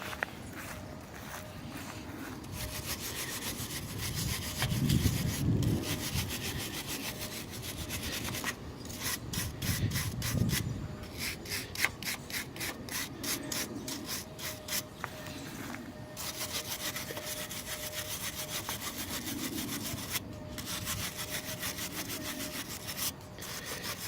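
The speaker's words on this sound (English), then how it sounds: "Let me finish cleaning the rest of the bolts off" Rusty bolts for a backyard kids' swing being scrubbed clean of rust particles, a series of close, rhythmic rasping scrapes in bursts with pauses and faint handling knocks between, no talk.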